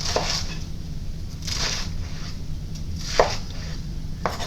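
A knife chops food on a cutting board, with several sharp knocks spread among softer slicing scrapes over steady background hum; nobody talks.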